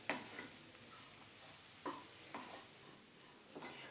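Moong dal roasting in ghee is stirred on low heat, giving faint, steady sizzling broken by soft scraping strokes of the spoon every second or so, quiet and close.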